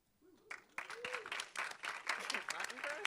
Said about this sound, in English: Clapping for ourselves.